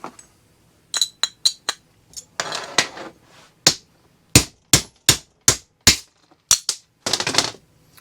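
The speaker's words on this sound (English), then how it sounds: "I'm gonna pop this bushing out" A bushing is popped out of a Bosch VE injection pump top cover for a 1989 Dodge Ram 5.9L Cummins. Nearby sharp metallic taps and clicks come in an irregular series, with short scraping rattles between them.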